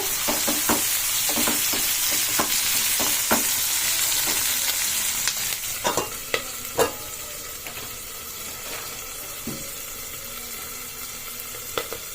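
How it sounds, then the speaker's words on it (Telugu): Sliced onions frying in a pan with salt, a steady close sizzle with scattered pops and stirring scrapes that thin out toward the end. "సాల్ట్ వేసినాం కదా ఉల్లిగడ్డ తొందరగా మగ్గుతుంది సాల్ట్ వేస్తే"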